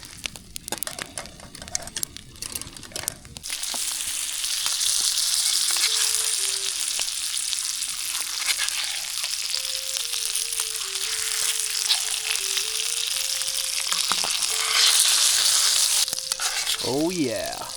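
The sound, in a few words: ribeye steak frying in garlic butter over a campfire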